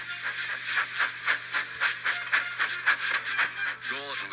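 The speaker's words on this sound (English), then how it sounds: "with much noise and blowing of steam, got ready to back onto the train" A steam locomotive blows off steam in rhythmic, hissing chuffs that pulse several times a second at a steady pace, ending with a short whistle-like tone.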